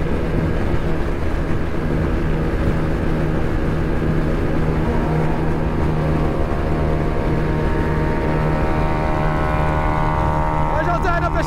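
A loud Honda DR160 motorcycle engine drones steadily and close while riding fast, its harmonic whine holding a constant pitch throughout, with voices faintly beneath.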